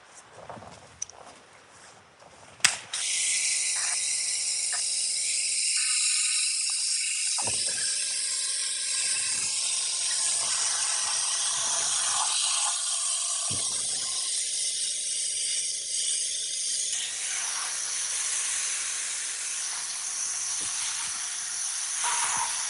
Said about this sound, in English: Fallout remover. Then I'll spray the door shuts.